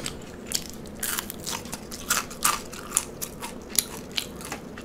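Super crispy fries are chewed loudly right at the mouth, with repeated sharp crunchy bites in an irregular rhythm and no talking.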